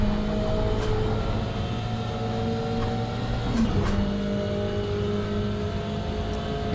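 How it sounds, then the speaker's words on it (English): Onboard a GTE race car at Shanghai International Circuit, a steady loud engine drone fills the cabin, broken by a few sharp gear-shift clicks and short pitch changes as the driver works through the gears. "You can hear the shift noises."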